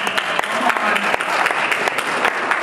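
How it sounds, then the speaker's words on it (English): A crowd at a conference session applauds loudly and continuously, a dense wash of clapping with a few sharp nearby claps standing out. "I want you guys to give a round of applause to your data."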